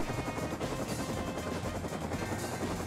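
Helicopter in the survival game Rust, a loud, close, continuous rotor thump and engine drone with no gaps.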